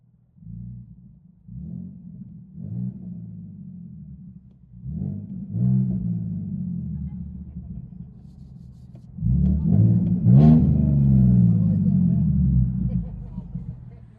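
Deep, rumbling straight-pipe dual exhaust of a 2016 Ford Mustang V6 heard from the cabin, idling heavily then swelling into a louder rev near the end.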